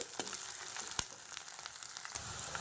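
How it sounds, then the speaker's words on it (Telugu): Ginger garlic paste fries in a pan for a spring onion and tomato curry, producing a continuous close sizzle with occasional sharp stirring ticks and no talk. "ఇలా బాగా వేగనిద్దామండి."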